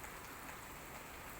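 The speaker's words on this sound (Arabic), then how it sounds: "مطر خير وبركة بإذن الله." Steady rain falls in a continuous, even hiss with no breaks, faint and distant, with no voices or other sounds over it.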